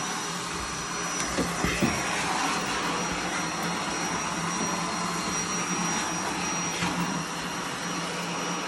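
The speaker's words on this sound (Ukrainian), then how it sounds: "І в мене є ось такий пилосос Bosch, і це дуже зручно ним користуватися." A Bosch handheld vacuum cleaner runs steadily at home with a constant high-pitched whine and airy roar, loud and unbroken throughout, with faint bumps as it moves over surfaces.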